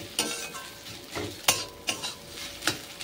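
Fish roe and potato frying in a pan, stirred with a utensil: sharp scraping strokes recur roughly every half second to second over a soft sizzle, close and fairly loud, no voices.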